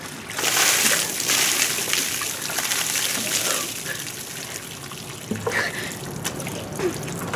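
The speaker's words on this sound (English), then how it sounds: "Please dump water on me." A bucket of ice water is dumped over a person's head for the ALS Ice Bucket Challenge, a loud, broad splash and gush followed by dribbling and trickling as the water runs off.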